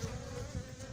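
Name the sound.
honeybees swarming on a comb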